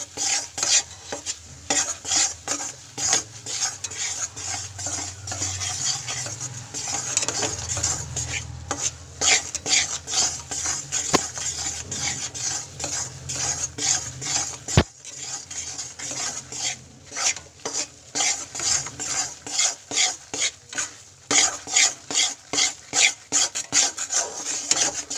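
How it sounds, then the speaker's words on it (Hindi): Gram flour (besan) is stirred and roasted over a medium-low flame, a spoon scraping and rasping steadily against the pan in a continuous rhythmic rubbing, with occasional sharp clinks and a faint sizzle underneath. "ऐसे ही लगातार चलाते हुए मीडियम लो फ्लेम पर हमने इसे भूनना है।"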